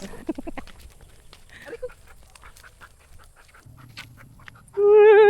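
A dog pants softly in quick breaths near the start, followed by faint rustling and a loud tonal squawk at the end; a voice is barely heard.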